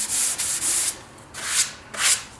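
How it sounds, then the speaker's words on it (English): A sanding block is pushed over guide coat on a car's body panel in long, loud, hissing strokes, four or five close, rhythmic passes with brief pauses between them and no talking. "we are just gonna go ahead and block sand"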